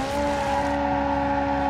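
Car drifting in the BeamNG.drive video game, with a steady, sustained tire squeal and engine tone, loud and close throughout the short moment.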